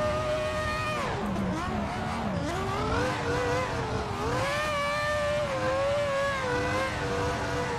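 Drifting F1 car in a racing game on a MOZA Racing FSR wheel: a loud, sustained engine tone that swoops up and down with throttle, holding near and constant throughout.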